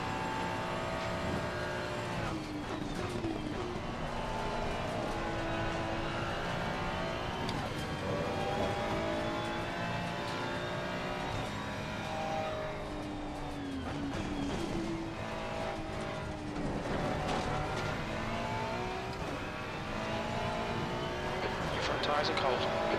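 Racing-game engine noise at Bathurst, a continuous near car engine whine rising and falling with gear changes and cornering, joined by passing cars, with someone talking over it.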